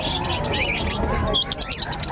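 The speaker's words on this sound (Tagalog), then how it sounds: "Ang daming ibon." Many caged birds chirp and tweet in quick overlapping calls at a busy Bocaue bird market, loud and close, filling the whole moment.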